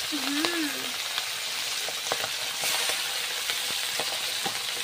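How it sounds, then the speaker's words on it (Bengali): Hilsa fish pieces fry in bubbling, very hot oil with turmeric in a Sundarban home kitchen, making a continuous crackling sizzle punctuated by sharp pops, with a brief whistling tone near the start. "বাহ, তেল তো ফুটতেছে।"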